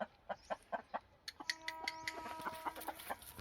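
Hens on a chicken farm in Purulia give quiet, evenly spaced clucks, then several birds join in with overlapping, warbling calls, soft and close.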